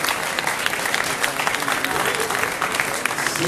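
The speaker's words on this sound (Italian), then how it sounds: "Un applauso." Dense, steady applause fills a room at the Sanremo 2018 winners' press conference, many hands clapping continuously at moderate volume with no voices standing out.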